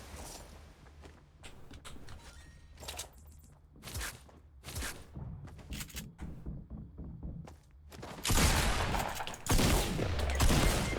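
Gunfire in a Fortnite match, scattered sharp shots and footsteps at moderate distance early on, then loud close blasts near the end, with quiet gaps between.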